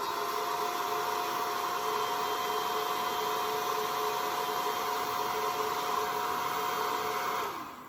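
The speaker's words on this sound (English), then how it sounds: "I'll pop on the hairdryer" A hair dryer drying brushed-on ceramic glaze blows with a steady, loud whirring rush for several seconds, then winds down as it is switched off.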